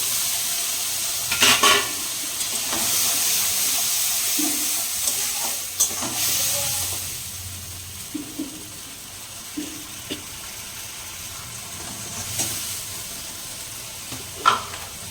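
Slit green chillies hit hot oil in a home kitchen pan, giving a steady close sizzle and crackle with occasional stirring clinks and scrapes, no voices.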